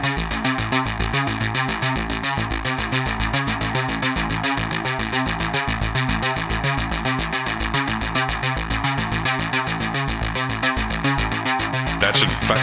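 Dark mid-tempo electronic synth patch from Omnisphere in a Gesaffelstein style, a loud, distorted, pulsing sequence with steady driving rhythm and heavy low-end hits throughout, played alone.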